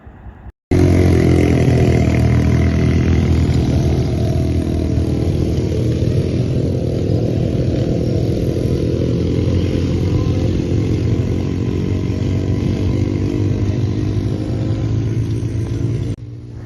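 A quad bike engine in the Sharjah desert drones loud and close, revving steadily with a raspy, buzzing tone for most of the stretch before cutting off abruptly near the end.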